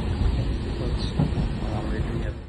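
Steady low rumble of an overnight train rolling along rails between Kokrajhar and Bongaigaon, continuous and fairly loud, with faint rattling and brief higher squeaks near the end.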